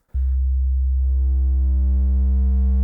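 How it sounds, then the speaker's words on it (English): A steady Eurorack synthesizer sine tone plays alone, harsh and buzzy from hard clipping on the output, its distortion getting brighter about a second in. "we can just add here the hard clip just for the output of the sine wave"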